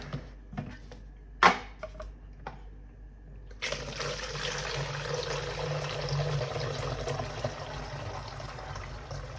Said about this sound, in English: I'm going to pour that HOCl into here